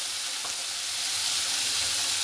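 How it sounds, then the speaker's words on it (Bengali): Chopped cabbage, carrot and other vegetables fry in hot butter, a dense, steady sizzle and hiss close up with no voices. "এবার আমি সবজি অ্যাড করছি। বাঁধাকপি কুচি,"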